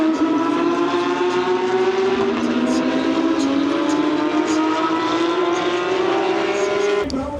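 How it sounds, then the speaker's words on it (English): Old Porsche GT3 Cup race cars on a track, a loud sustained engine roar as they race past in a stream, pitch shifting as each car goes by, with a sharp change right at the end. "The old Porsche GT3 Cup, excellent."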